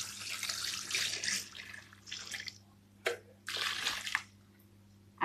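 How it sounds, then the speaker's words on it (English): Water pouring or running from a tap while making carrot, string bean and cucumber juice, heard in uneven splashing bursts with pauses, fairly quiet over a steady low hum. "Now I'm going to add my water."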